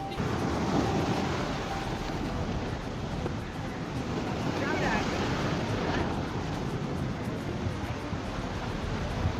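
Ocean waves breaking at a rocky beach, a continuous loud wash of surf mixed with wind buffeting the microphone, with a voice speaking under it.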